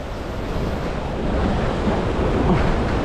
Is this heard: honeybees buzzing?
no